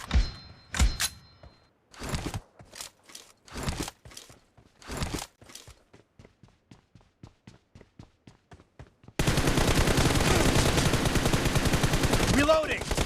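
Rapid gunfire bursts from PUBG Mobile ring out loud and close, spaced shots giving way to a steady fast volley, then a dense continuous roar fills the last few seconds.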